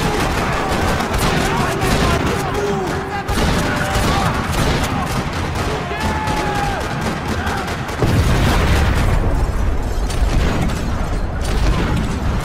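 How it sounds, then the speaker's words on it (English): Gunfire rattles across a parking lot in the Max Payne 3 video game: loud, rapid bursts of automatic fire and single shots packed densely together, with occasional booms and mechanical clatter, continuing throughout. "Another parking lot rattling with gunfire."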